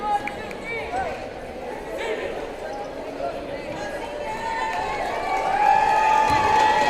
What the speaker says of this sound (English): Panther crowd really getting into this one